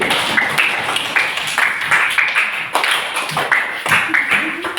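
Applause for Pak Tri at an Indonesian school project presentation: a steady patter of many hands clapping, fairly close and loud, with brief voices mixed in and no break through the whole stretch.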